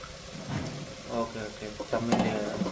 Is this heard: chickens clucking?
no